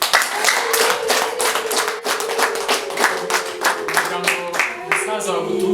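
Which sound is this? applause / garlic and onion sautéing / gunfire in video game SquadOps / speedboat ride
applause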